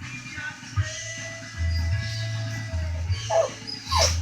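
A puppy whines and whimpers softly indoors in short plaintive bursts over a low hum, the sound faint but steady.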